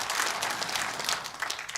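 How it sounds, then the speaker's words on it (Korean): Brief burst of congregation applause in thanks for a pastor at a church gathering, many hands clapping together in a dense, even patter. "감사의 박수를 보내주시면 고맙겠습니다."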